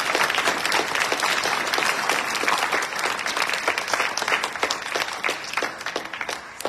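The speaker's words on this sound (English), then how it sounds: "Let's please applaud our students, our graduates, and our instructor." Sustained applause from the audience at a 2023 Charter College Wenatchee graduation, honoring graduates and their instructor; loud, continuous crowd clapping with crisp individual claps standing out, tapering slightly at the close.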